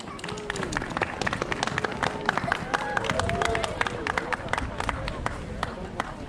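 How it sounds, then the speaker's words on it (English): Outdoor crowd at a town Christmas tree lighting ceremony claps and cheers in a steady, dense patter of many hands, with murmuring voices mixed underneath throughout. "please give them a round of applause"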